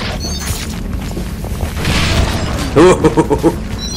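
A video game gunshot lands as a loud boom, followed by a quick burst of several sharp mechanical pops; game sounds and a talking voice run underneath.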